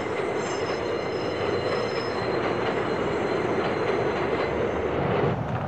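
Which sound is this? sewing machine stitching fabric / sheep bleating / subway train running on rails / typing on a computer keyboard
subway train running on rails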